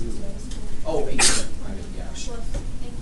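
A single sharp sneeze bursts out mid-clip, close and loud, with people talking quietly around it.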